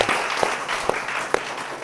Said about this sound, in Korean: 좋은 시를 써준 우리 이종화 선생님 박수 한번 부탁드리겠습니다